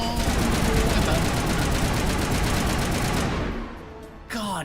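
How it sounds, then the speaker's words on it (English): Sustained automatic gunfire from a weapon in the video game Mass Effect, a dense continuous burst for over three seconds that cuts off, followed by a brief electronic tone. "God, you can shoot for so long."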